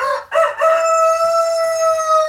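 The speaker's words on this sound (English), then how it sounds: "Oh, here come the roosters again." Roosters crow loudly and close by at a farmyard during morning chores, one long drawn-out crow with a sustained, strained tone, no talk over it.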